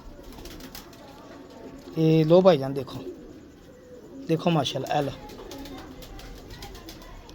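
Pigeons coo in two throaty, rolling bursts, close and fairly loud, while someone talks nearby between and over the calls.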